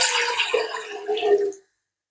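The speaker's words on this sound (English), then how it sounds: "Now I'm gonna put water." Water pours into a cooking pot while peanut soup with chicken is being made, a continuous splashing gush lasting about a second and a half before stopping abruptly.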